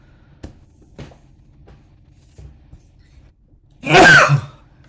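One loud, close sneeze in a quiet room during a group reading session, preceded by a few faint taps and knocks.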